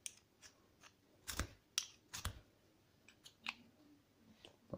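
A firesteel struck against a blade outdoors, producing two loud, sharp scraping bursts followed by several fainter, shorter scrapes and clicks, close by with no talk.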